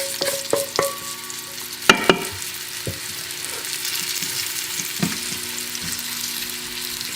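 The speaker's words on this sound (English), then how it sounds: "then we're going to brown the beef cubes in the Instant Pot" Beef cubes coated in flour browning in an Instant Pot, a steady soft sizzle running throughout with a few sharp clinks and scrapes from stirring, close and moderately loud.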